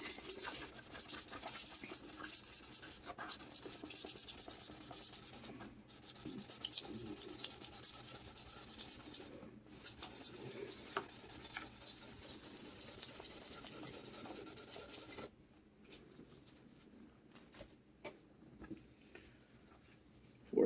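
Very fine 3600 grit abrasive is rubbed over a Telecaster guitar body in a continuous soft scratching hiss lasting about fifteen seconds, with brief breaks, before it quiets to faint handling noises.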